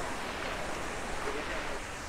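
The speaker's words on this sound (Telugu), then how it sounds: "చాలా పెద్ద ఉంది వాటర్ ఫాల్, అయితే చాలా పైనుంచి పడుతున్నాయి వాటర్, ఒక 30-40 feet పైనుంచి పడుతున్నాయి." A large waterfall dropping 30-40 feet onto rocks makes a steady, dense roar of falling water, broad and constant throughout, with no talking heard.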